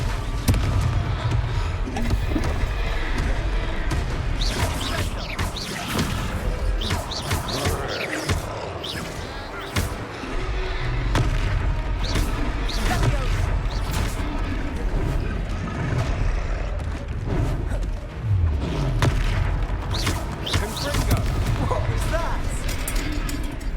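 Confringo blasting spells going off repeatedly in Hogwarts Legacy during a fight, dense booms and impacts under continuous game dialogue and talk.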